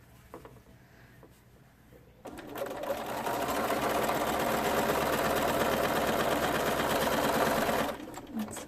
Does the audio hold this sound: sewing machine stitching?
yes